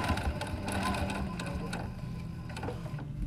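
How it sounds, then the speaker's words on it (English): A sewing machine stitches the pleat edge of a fabric face mask, a rapid mechanical rattle running steadily up close, with brief pauses and a slight stutter toward the end. "So now I'm going to sew the edge of the pleat in place."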